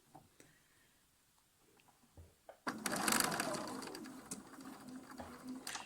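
A sewing machine stitches curved Drunkards Path quilt pieces, starting after a few faint clicks with a sudden burst into a steady, fairly quiet whirring run that continues to the end.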